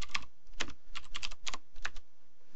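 Keys clack on a computer keyboard in short, irregular bursts of crisp taps close by as a terminal command is typed out with tab completion, the presses bunched in quick clusters separated by brief pauses.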